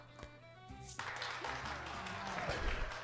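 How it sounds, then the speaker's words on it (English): Crowd applause swells in a game, a brief burst of clapping and cheering rising over a steady backdrop of music and ambient noise. "The applause."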